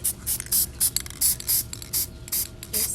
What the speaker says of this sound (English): let's spray paint them